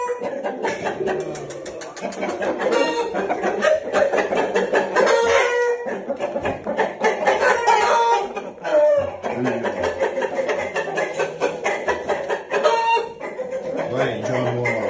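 Chickens and chicks cluck continuously at close range, with a steady busy flock murmur and someone talking over it throughout.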